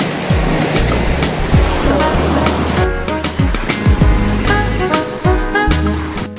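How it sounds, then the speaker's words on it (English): Ocean waves rolling in at a Miami beach, heard as a steady loud wash of surf with repeated low thumps of breaking water, close and continuous, with no voices. "Real life at the beach."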